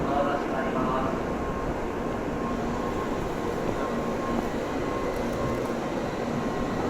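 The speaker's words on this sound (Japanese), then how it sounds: "のぞみのドア閉まります。" A Nozomi Shinkansen departs Okayama Station as its doors close, giving a steady, loud wash of rail noise and platform rumble with a faint tone running through it.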